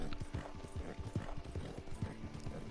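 Horse hooves clip-clopping at a steady walking rhythm in Red Dead Online, a regular series of soft, fairly faint thuds with a light background ambience.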